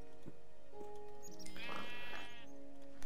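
Sheep in the game Minecraft bleat in a low, wavering cry over a quiet, steady game background, fairly soft and alone with no speech.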